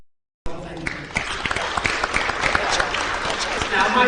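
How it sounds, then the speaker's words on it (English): An audience claps for mentors at a school alumni careers evening, the applause beginning abruptly after a brief silence and continuing steadily at moderate volume, a bit distant. "So a round of applause for all of you as well"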